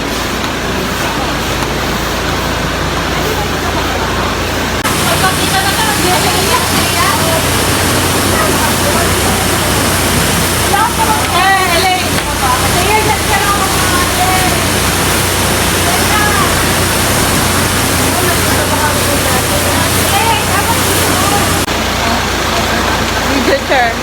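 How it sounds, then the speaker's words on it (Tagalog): A strong river current rushes loudly and continuously with dense, roaring water noise, and voices are faintly mixed in beneath the torrent. "Ang lakas ng agos!"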